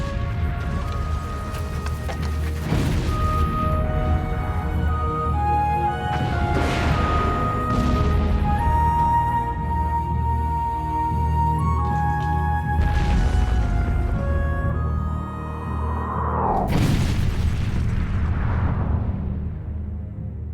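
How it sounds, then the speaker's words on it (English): Heavy cannon bombardment of a Japanese castle during the siege of Aizu-Wakamatsu, with repeated booming impacts and crashes spread through a dense, continuous din of battle, loud and close. "Over 50 cannons pound the castle day and night."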